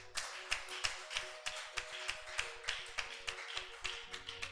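Church congregation clapping in a steady, rhythmic beat, sharp hand claps repeating about every half second, fairly close and even, with no speech over it.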